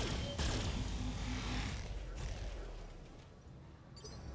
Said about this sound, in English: So I'm going to go ahead and fire on this turret.